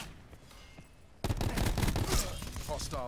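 Rapid gunfire from a weapon in the Black Ops 4 video game during a team deathmatch, with dense automatic bursts that start abruptly after a quieter stretch of game sound and stay loud and close, with voices talking over them.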